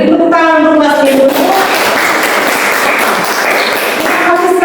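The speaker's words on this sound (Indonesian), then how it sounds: "Beri tepuk tangan untuk Mas Ibu." Students applauding at the end of a classroom teaching session, a loud burst of many hands clapping that rises after a brief tonal sound at the start and holds steady, with a faint voice underneath.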